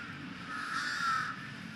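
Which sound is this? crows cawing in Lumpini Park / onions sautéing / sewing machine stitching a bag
crows cawing in Lumpini Park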